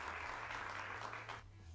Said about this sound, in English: My ears throb at the deafening cheers and claps from all around me.